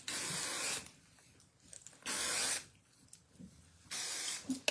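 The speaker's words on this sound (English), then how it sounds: "I need the hairspray or something in my hair." Hairspray hisses from an aerosol can onto hair in three separate bursts, each about half a second to a second long, close and bright, with quiet rustling between them.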